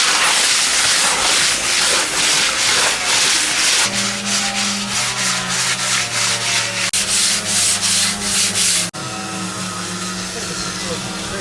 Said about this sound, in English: We used 60 grit on long boards. We just went back and forth and wet sanded the whole thing